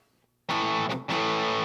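An electric guitar runs through an Ibanez Tube Screamer overdrive pedal, kicking in loud and thick after a short quiet lead-in, with a brief dip before the gritty, sustained tone swells back up.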